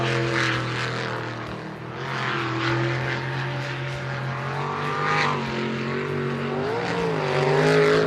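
Unlimited-class sprint racing boat with a 376 cubic inch methanol-fuelled engine, a loud, steady droning roar holding close and constant throughout, rising slightly near the end, with no talk.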